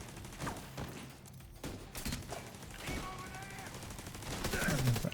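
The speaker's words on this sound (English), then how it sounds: "Eventually my turret will just break through his shell" A turret in a video game firing at an enemy, rapid bursts of gunfire rattling through the whole stretch, loud and dense, with other game sounds mixed in.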